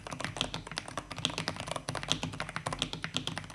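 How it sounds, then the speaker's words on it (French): Typing on a Wooting plastic keyboard with stock Brown switches, a rapid close run of dry clacking keystrokes with uneven rhythm and some sharper bottoming-out taps, no voice. "les switches Brown par défaut sont horriblement secs"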